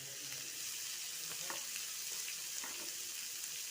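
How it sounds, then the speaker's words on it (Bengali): Onions and ginger frying in oil in a pan, a soft continuous sizzle with a few light stirring scrapes, quiet and steady with no voices. "আমি একটু নেড়ে নেড়ে ভেজে নেবো।"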